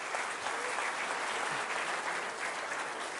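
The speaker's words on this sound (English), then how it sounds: "Anthony, big round of applause" Dense, continuous audience applause fills the room at a science and magic show, a steady wash of many hands clapping at once, with no talk over it.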